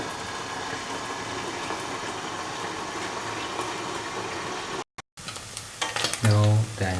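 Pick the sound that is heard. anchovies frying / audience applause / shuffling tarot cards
anchovies frying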